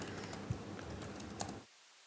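Computer keyboard typing, a steady run of light plastic key clicks for about a second and a half, close and moderately quiet, with no talk.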